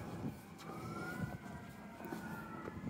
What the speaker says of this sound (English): Wow, there's a lot of sirens going.